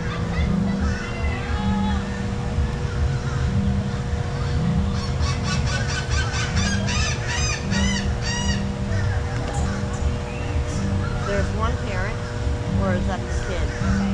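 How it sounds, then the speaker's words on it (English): A stink bird calling at Busch Gardens Tampa, with loud, honking, goose-like calls repeating over steady background noise at the zoo. "That's the stink bird."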